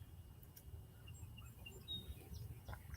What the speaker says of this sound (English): You'll be able to hear the birds.